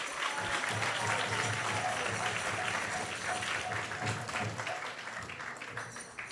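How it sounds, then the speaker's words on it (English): An audience at an ISKCON temple event applauds the participating children and parents, producing a continuous, moderately distant round of clapping that fades slightly toward the end. "So let's give them a big round of applause."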